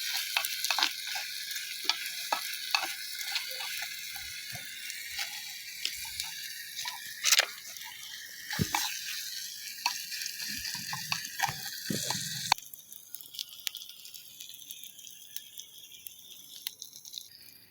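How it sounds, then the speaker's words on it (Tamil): Onions and tomatoes sauté with rock salt in a pan, a continuous crackling sizzle with scattered pops and stirring clicks that suddenly drops to a quieter hiss near the end. "கல் உப்பு போட்டு நல்லா வதக்குறாங்க"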